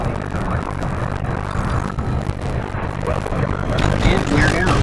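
A spaceship in Elite Dangerous settles onto a docking pad, a steady rumbling thruster and engine wash with low hum, fairly loud and continuous, swelling slightly near the end.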